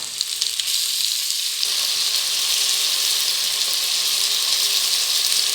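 Chopped tomatoes sautéing in a pan for a South Indian biryani give a loud, dense, continuous sizzle that swells after a moment and stays close and steady, with no voices.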